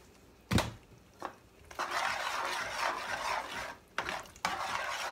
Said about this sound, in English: you stir this until it gets thick